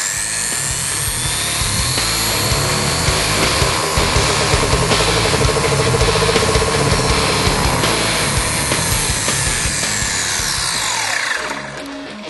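Electric motor of a Traxxas Rustler VXL RC car spinning the rear wheel at about half throttle while the car is held up, a loud, close, continuous high whine that rises and holds steady before cutting off.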